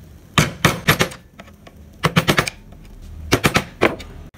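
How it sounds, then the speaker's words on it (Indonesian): Sharp chisel strikes carving a Pajajaran-style wood ornament, in short rhythmic bursts of several rapid taps separated by pauses, close and fairly loud with no talk. "Sama seperti ini kita dasari menggunakan pahat kol."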